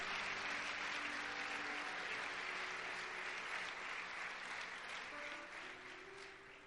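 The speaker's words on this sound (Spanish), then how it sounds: "Denle un aplauso fuerte a Jesús." Congregation applause in a church after a Spanish sermon, a broad sustained roar of many hands clapping with some voices underneath, fading slightly toward the end.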